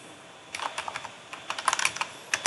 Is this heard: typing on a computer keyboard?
yes